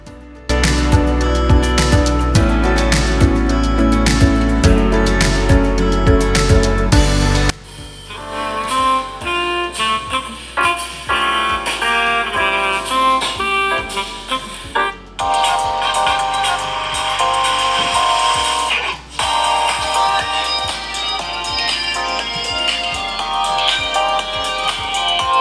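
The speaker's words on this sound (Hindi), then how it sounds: "तो दोस्तों ये फ़ोन का जो साउंड है वो आप लोगों ने सुना" A Redmi Note 11 Pro's loudspeaker plays a loud melodic ringtone-style tune after the phone has been through a water test. Bright, sustained tones change partway through, with no one speaking.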